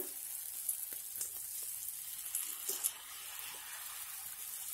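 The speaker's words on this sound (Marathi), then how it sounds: "तवा छान गरम झाला की त्यावर थोडंसं सारण घालूया" Oats dhirde batter sizzles on a hot, oil-greased griddle, a steady close hiss with a few soft scraping taps of a spoon spreading it, no voices.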